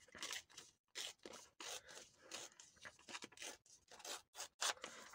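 A paper bag being torn by hand for a journal project: a series of close, crisp ripping and rustling strokes in uneven bursts, with no speech.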